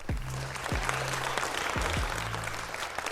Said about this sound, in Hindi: तो जोरदार तालियां आरजे नवेद के लिए।